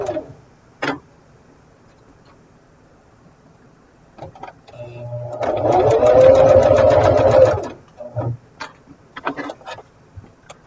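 A sewing machine stitching quilt seams in one loud burst of rapid, buzzing stitching for about two seconds, near and clear, framed by small clicks and handling noises before and after.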